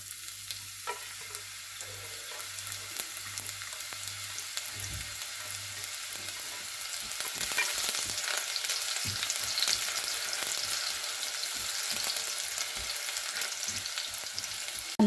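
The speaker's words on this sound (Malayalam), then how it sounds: "എണ്ണ ചൂടായി കഴിയുമ്പോൾ നമുക്ക് നമ്മളെടുത്ത് വെച്ചേക്കുന്ന ഉള്ളി അരിഞ്ഞത് അതിലോട്ട് ചേർത്ത് കൊടുക്കാം." Chopped onions frying in hot oil in a pan for a Kerala cashew curry, a continuous sizzle that starts softer with a few clatters, then grows louder and fuller after the onions are stirred, close up with no voices.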